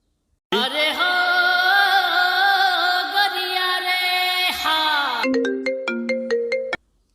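An electronic phone ringtone plays a sustained melodic tune, then switches to short repeated beeping notes before stopping abruptly.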